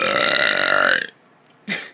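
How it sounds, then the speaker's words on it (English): A loud, drawn-out burp lasts about a second, close to the mic, then a brief pause and a short second burst. "Two burps in this video already."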